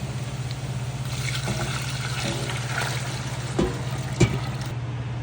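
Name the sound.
water being poured into pot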